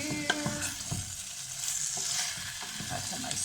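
Turkey meat for goulash sears and sizzles in a hot pan, with steady frying crackle broken by stirring and tossing scrapes, close and fairly loud throughout.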